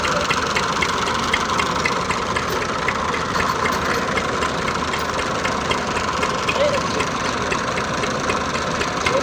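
Tractor engine running hard with a chain hitched to pull out another tractor stuck in a field: a loud, steady low rumble with knocking texture throughout, close by.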